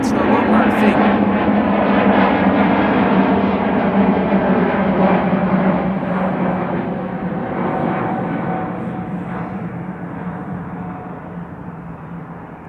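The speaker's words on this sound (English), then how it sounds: "Iberia in the meantime taking off. Iberia to Madrid." An Iberia airliner taking off for Madrid at Amsterdam Schiphol: a loud, sustained jet engine roar that slowly fades as the aircraft climbs away.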